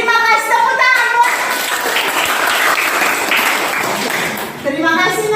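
Schoolchildren in a classroom applaud together, a dense, close burst of clapping that lasts several seconds, with a child's and an adult's voice speaking before and after it.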